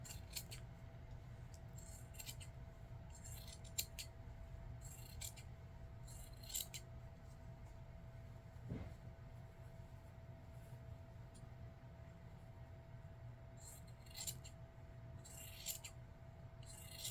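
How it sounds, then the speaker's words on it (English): Scissors snip through the fabric of a skirt along its seam line in short bursts of crisp cutting strokes, close and quiet against a low background hum. "start cutting into this skirt. So I'm just going to use this seam line to make my cut"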